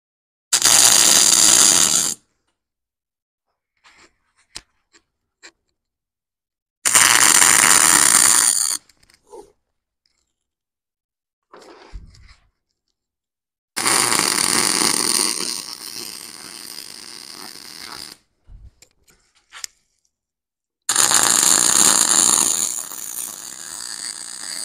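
A hub being welded onto a tubing roller in bursts of loud, crackling, buzzing arc, each lasting a few seconds, with near-silent gaps and a few small clanks between them.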